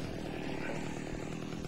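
Chainsaw revving in the horror brawler game Splatterhouse, a steady buzzing drone that holds at a constant level throughout, faint and continuous with no pauses.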